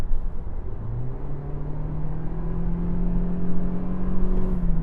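A new Toyota Prius's engine drones with a low, mooing hum that climbs in pitch as the car accelerates to overtake, steady and continuous under road rumble, with no talk.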